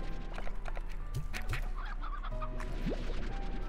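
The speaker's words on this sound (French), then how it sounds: "Ah non, c'est juste des poules." Chickens cluck in the video game Slime Rancher, a few short clucks and squawks rising over a steady low game hum, near and moderately loud with no talk.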